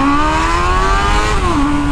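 A Honda Hornet motorcycle engine revving hard, a loud, close, sustained high-revving roar that holds steady and then drops in pitch briefly toward the end.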